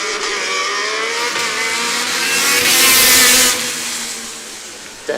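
A Formula Student race car accelerating on a track during a competition acceleration event, its engine note rising into a loud, harsh roar that peaks and then fades as it passes, with no voices.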